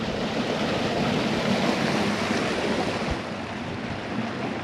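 Snow-melt water running through a high desert creek in late July, a dense, steady rushing wash that stays loud and close throughout, mixed with some wind noise and no talk.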